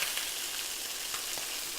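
Chicken thighs sear skin side down in a pan, giving an even, hissing sizzle that holds steady throughout with only faint small pops.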